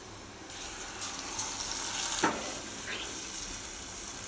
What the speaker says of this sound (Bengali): এ পর্যায়ে মাছগুলো ছেড়ে দেব।